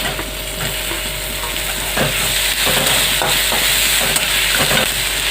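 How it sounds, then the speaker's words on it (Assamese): Chopped tomatoes frying in a pan with cumin and coriander powder for a prawn masala curry, loud continuous sizzling with intermittent scraping and stirring strokes, close up and without talk. "এতিয়া তাতে মই সেই বিলাহীখিনি দি দিম"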